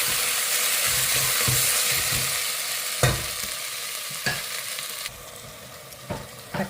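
Onions and tomatoes sizzle in a pan, a close steady fry broken by a few sharp spoon knocks and scrapes against the metal as they are stirred, with no talk.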